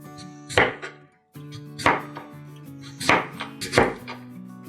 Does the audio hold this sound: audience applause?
no